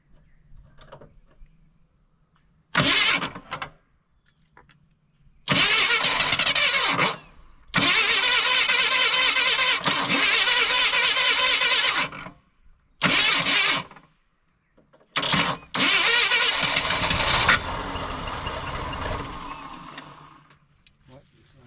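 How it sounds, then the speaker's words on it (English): A Ford Fox Body Mustang's starter cranks in several long bursts separated by short pauses, loud and close, with the engine churning and catching near the end into a rough idle. "Double tap that starter."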